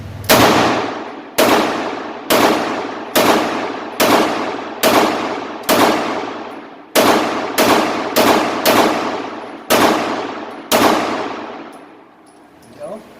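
Taurus TH9C pistol fired in a sharp series of eleven loud, ringing single shots with short echoing decays, spaced roughly a second apart with a few quicker doubles, followed by quiet.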